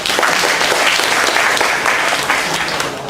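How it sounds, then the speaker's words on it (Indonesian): An audience at a young leaders' talk show bursts into loud, dense applause that stays strong and continuous throughout, with a faint murmur of voices underneath. "Tepuk tangan."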